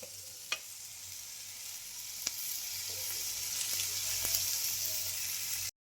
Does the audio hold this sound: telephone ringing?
no